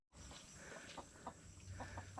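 A chicken clucks faintly a few times outdoors on a mountain trail in Zambales, the short calls set against a steady background hum.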